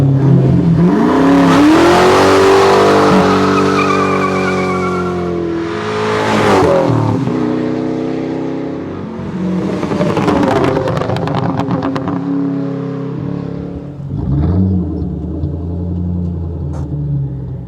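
A loud V8 exhaust on a 1997 Mustang GT with an SLP Loudmouth exhaust, BBK X-pipe and K&N cold air intake revs up and down in several bursts, deep rumbling between throttle blips, with no talking.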